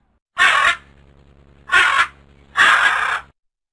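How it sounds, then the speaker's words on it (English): A parrot gives three loud, harsh squawks, each about half a second long and separated by short pauses, close and alone over a faint steady hum. "Parrot."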